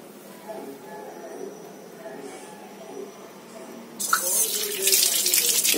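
Water gushes suddenly and loudly from a tap switched on by a DIY hand-sensor motor circuit, following a quiet stretch of faint motor hum and speech.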